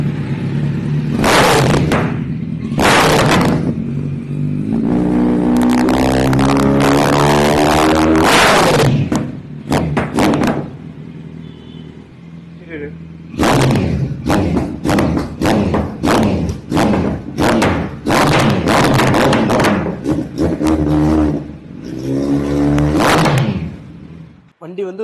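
A single-owner Kawasaki Z900 superbike revs loudly and close in repeated bursts, its exhaust note rising and falling through a long rev sequence with brief idle pauses between. A voice can be heard underneath.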